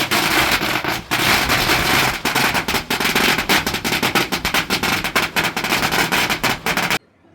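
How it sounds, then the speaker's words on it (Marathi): A string of firecrackers bursts inside a temple kiln in Phuket, loud and close, with dense rapid cracks and pops running nearly continuously for about seven seconds before stopping abruptly. "आपल्याला असा फटाक्यांचा फाडफाड फाडफाड असा आवाज येतो"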